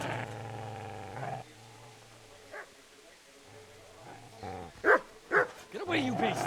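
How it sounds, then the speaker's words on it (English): A dog barks in the medieval video game Kingdom Come: Deliverance, several sharp loud barks clustering near the end over a low droning game backdrop, with a voice talking earlier. "Co chodzi z tym psem?"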